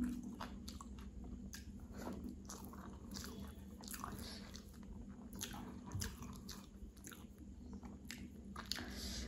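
Wet chewing and biting sounds from eating rice with rahu and bata fish curry, close and steady with repeated soft squishy bites over a constant low background hum.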